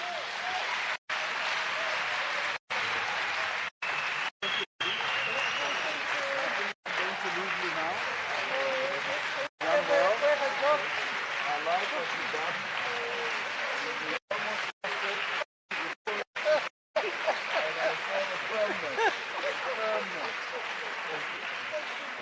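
Audience applause at a presidential summit on gender-based violence and femicide, a large crowd clapping steadily and loudly for over twenty seconds with a brief swell midway, heard from within the hall.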